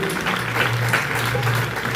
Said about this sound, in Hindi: तो सर के लिए एक बार जोरदार तालियां